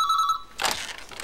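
A telephone rings in a Hindi comedy film scene, a bright repeating electronic bell tone that stops abruptly, followed by a brief clatter as the handset is picked up.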